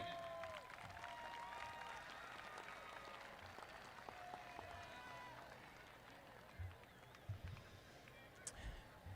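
Graduates at the Niceville High School 2025 graduation ceremony applaud their families in a large venue, a steady wash of clapping from a big crowd filling the space, with scattered cheers and a few louder bursts near the end.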